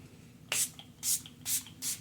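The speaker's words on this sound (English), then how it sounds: "I'm going to give my face a quick spritz of my Revolution Makeup Conceal and Define Infinite Mattifying Setting Spray" Revolution Makeup Conceal and Define Infinite Mattifying Setting Spray misted onto a face in four quick, close hissing spritzes at an even rhythm, with a faint click of the nozzle between them.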